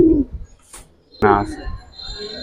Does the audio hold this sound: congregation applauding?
no